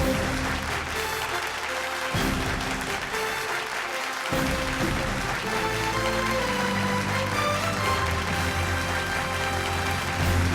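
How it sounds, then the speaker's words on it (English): Applause at a health excellence awards ceremony in Bangalore, sustained clapping from the audience over a steady background of music. "Let's give them a round of applause."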